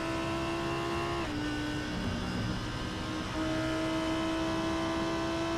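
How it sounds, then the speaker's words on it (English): A Lamborghini GT3 race car in iRacing, its engine holding a loud steady note, dropping sharply as it shifts up a gear, then climbing again on the run down the straight at Imola. "Paul Cowlishaw back with us again tonight in the Sumo Racing Lamborghini as well. Glorious sounding race car."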